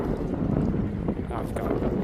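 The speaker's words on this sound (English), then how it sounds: "it's really windy down here" Steady wind rumble buffets the microphone by a reservoir, a constant low roar that continues throughout without any clear talking.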